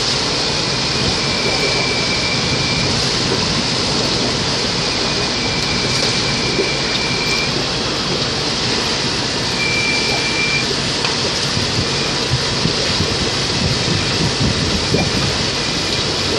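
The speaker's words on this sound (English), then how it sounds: "It's actually, rain's coming into the house," Heavy rain pours in Jeddah, Saudi Arabia, and blows onto a sixth-floor balcony, a loud, dense and continuous hiss that holds steady throughout with no talking.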